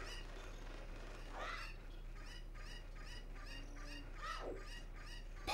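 Video game chickens cluck and squawk in short repeated bursts over a steady background hum, sounding somewhat thin and distant, picked up through a microphone.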